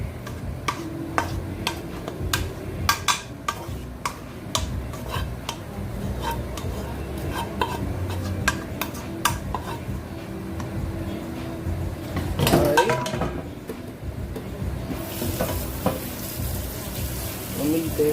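A spoon stirs BBQ baked beans in a cooking pot, with repeated scraping ticks and a light sizzle running throughout, fairly close, under occasional talk.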